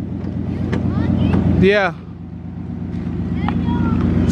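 An old Chevy car engine idling in the snow in Michigan, a steady low rumble up close, broken briefly by a squealing whine, with someone speaking a word.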